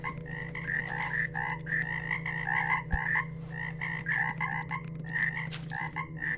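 Frogs croak in a dense, rhythmic chorus in a video game, with repeated close croaks over a steady low hum and occasional small clicks.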